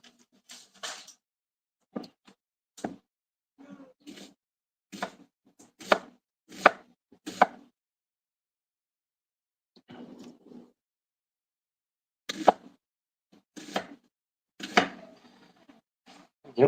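A knife chops food on a cutting board into tiny bits: crisp, irregular knocks in short bursts, pausing for a few seconds before resuming, with no talking.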